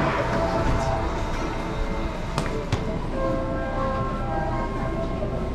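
Inside a moving subway train car, a steady low rumble and rattle of the carriage with a couple of sharp metallic clicks, continuous and fairly loud with no speech.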